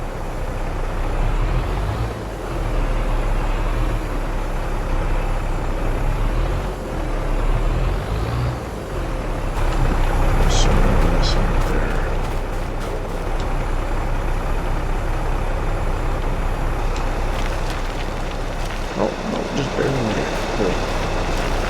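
A diesel Detroit truck engine idles and warms up in snowy Farming Simulator 22 gameplay, a steady low rumble with brief hissing and high-pitched clicks partway through, running alone without talk.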